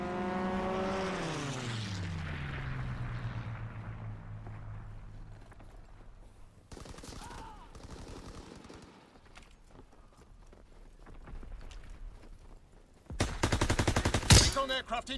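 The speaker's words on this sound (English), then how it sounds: "Fighter pilot inbound, strafing the target." Call of Duty: WWII fighter plane strafing run: an aircraft engine sweeps past with a falling drone, then scattered gunfire rattles, ending in a loud burst of rapid fire.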